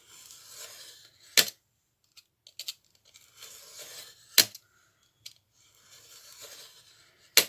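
Paper being cut for a glue book, with soft papery swishes and rustles punctuated by a few sharp snips and clicks, close and fairly quiet, no talking.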